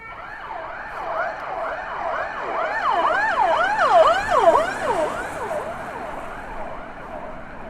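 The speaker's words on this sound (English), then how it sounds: "Oh, I can hear an ambulance coming." Ambulance siren wailing on a Helsinki street, a repeated rising-and-falling tone that swells louder as it nears, peaks, then slowly fades, with faint traffic underneath and no talking.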